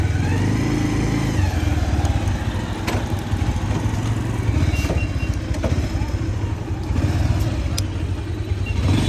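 A motorcycle rides along a road in Kashmir toward a petrol pump, its engine a steady, close, continuous rumble with road noise and light clatter throughout, and no talk.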